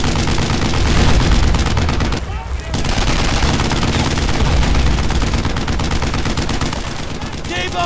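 Dense, continuous machine-gun and rifle fire rattles loud and close in the video game Brothers in Arms: Earned in Blood, with a brief lull partway through before the barrage resumes.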